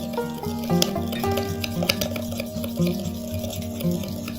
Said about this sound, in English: Now we need to mix very well until the salt will dissolve completely.